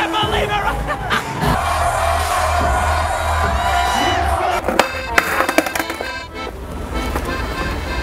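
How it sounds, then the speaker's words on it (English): A large crowd at a concert on tour, cheering and whooping loudly and continuously over booming low music, with scattered shouts and nearby voices mixed in. "The crowd is going crazy."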